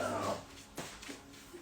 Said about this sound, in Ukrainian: Просто невиносімо вредна собака.